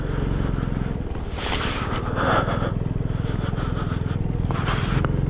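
A motorcycle, called a Panther, rumbles steadily through a water crossing on a forest track on the way from Hunder to Pangong Lake in Ladakh, with splashing and spray bursts rising over the continuous engine drone.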